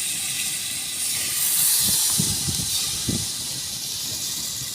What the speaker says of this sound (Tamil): நல்லா கிரேவி கிரேவி மாதிரி எப்படி கொதிச்சுட்டு கிடக்கு பாருங்கள்